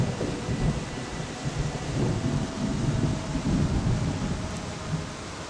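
A video game storm plays a continuous low rumble of thunder with steady rain and wind, swelling and fading in rolling waves with no voices.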